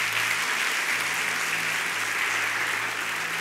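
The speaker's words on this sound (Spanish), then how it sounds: "Un aplauso para Javi también" Church congregation applauding a coordinator during a special service for home groups, a steady wash of dense clapping from start to finish, even and fairly loud, with a low hum beneath.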